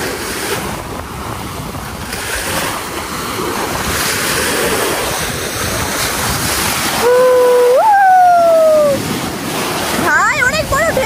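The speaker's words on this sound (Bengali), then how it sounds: "অনেক বড় ঢেউ আসতেছে কেন?" Big sea waves crash and surge at Jomtien Beach in Pattaya, a loud, continuous roar with strong wind buffeting the microphone and voices heard faintly over the surf.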